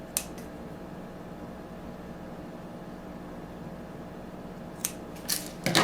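Scissors trimming thread on a handmade sock doll: one quiet snip at the start, then a quick cluster of closer snips near the end over low steady room hiss.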